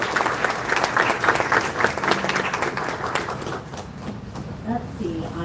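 Audience applause fills the room at a live event, steady dense clapping from a crowd held at an even level throughout and fading slightly toward the end.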